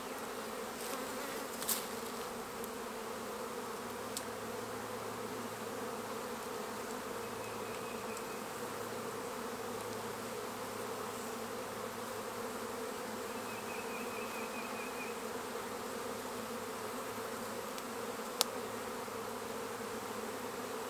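Feral honeybees extracted from a hollow hum in a steady, low continuous buzz, close and constant, with an occasional louder bee passing near and a few faint clicks.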